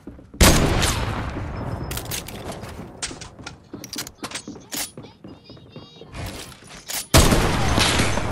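Rapid gunfire bursts from a video game shooter, loud and close, with dense volleys at the start and end and scattered shots and mechanical clicks in between.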